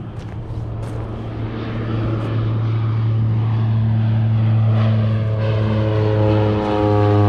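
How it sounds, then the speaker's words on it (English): A ski plane takes off toward Denali, its propeller engine a steady droning hum that swells and holds loud and fairly close, with no talking. "Another plane taking off, going over to Denali"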